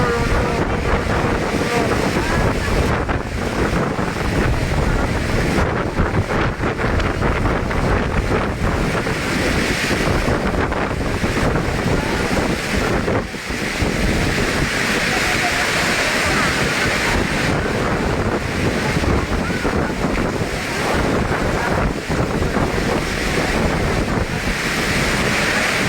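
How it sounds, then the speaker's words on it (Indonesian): Strong gusting wind roars continuously across a makeshift refugee tent camp set up after the West Sulawesi earthquake, buffeting the tents in a dense, loud, unbroken rush with surging peaks throughout. "tenda pengungsi hancur, terbongkar, terbawa angin"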